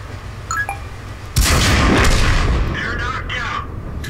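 A tank cannon in a video game fires at an enemy vehicle, one loud booming blast followed by a rolling, decaying rumble, after a few faint interface beeps.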